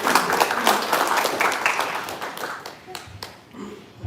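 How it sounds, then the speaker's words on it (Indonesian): Seminar audience applauding, a dense patter of claps that swells early and thins out toward the end, with a voice faintly audible over it. "Sekali lagi aplaus buat Bapak Ibu semuanya."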